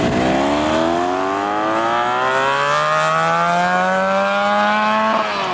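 A 400cc V4 motorcycle engine with gear-driven cams revs toward 14,500 RPM, climbing steadily in pitch for several seconds, a loud, continuous multi-toned howl that peaks and cuts off sharply near the end.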